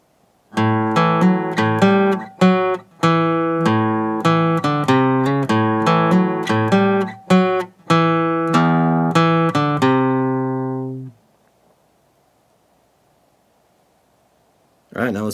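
Bluegrass guitar picking the first four measures of Old Joe Clark, a brisk run of clear plucked notes at a steady tempo, ending on a ringing note that fades into silence.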